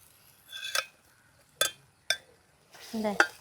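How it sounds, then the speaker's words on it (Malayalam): Jaggery syrup poured into a pan and stirred in a Kerala home kitchen while making a snack, heard as a few sharp scraping and clinking strikes of a spoon against the pan, with a longer rustling pour near the end. "ഇതേട്ടാ നമ്മുടെ ശർക്കര നീരൊഴിക്കാൻ കേട്ടാ"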